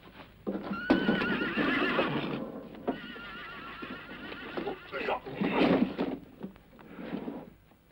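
A horse whinnies loudly several times, close by, with hooves clattering and shuffling between the neighs.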